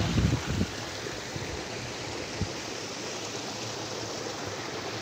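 Water flows steadily near a village temple, making a broad, continuous rushing hiss. It stays at even strength throughout, with a few low bumps near the start.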